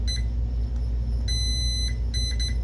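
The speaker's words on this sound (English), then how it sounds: "let's go to continuity, turn on the beep" Multimeter continuity beeper sounding while probing capacitor ground points on a DLP projector power supply board: two short high tones and one longer steady tone over a low electrical hum.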